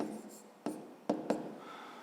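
Pen writing by hand on paper while working a fifth-grade arithmetic exercise, a few short, fairly close scratching strokes separated by quiet pauses.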